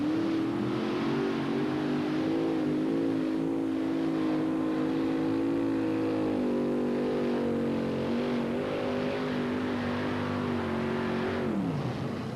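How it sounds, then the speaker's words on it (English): A three-engine pulling tractor roars through a tractor pull run, its engines holding a loud, sustained droning rev that wavers in pitch before dropping off sharply at the end. "The 3-engine tractor is just a little under power against the 4s and the 5s today."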